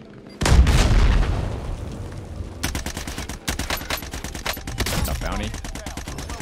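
Bursts of rapid gunfire from a Call of Duty Warzone match, repeated volleys and sharp shots, some distant as if from a hill, with players talking over the action.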